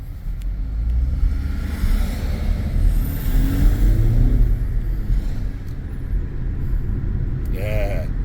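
A BMW X1 accelerates on roads around Breckenridge, with a steady low engine rumble and road noise heard from inside the cabin, rising gently as the SUV picks up speed.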